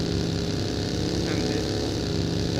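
Motorcycle engine in the video game PUBG Lite, a steady buzzing drone running loud and continuous throughout, with a voice talking faintly underneath.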